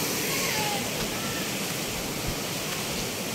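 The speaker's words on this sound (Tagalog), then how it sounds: "Wow, ganda ng falls." The waterfall at Agpay Eco Park roars as a constant, dense rush of falling water, close and steady for the whole moment, with a few faint voices mixed into the noise.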